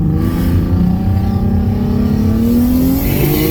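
A turbocharged V6 Ford Mustang S197 with a low-mount turbo kit pulls hard under acceleration, a loud close engine drone whose pitch climbs steadily as boost builds, with continuous road and exhaust roar and no talking.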